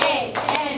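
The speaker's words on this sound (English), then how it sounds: "we're going to quickly clap that out" Children in a classroom clap out the syllables of a spelled word, two or three quick hand claps close together over a moment of young voices.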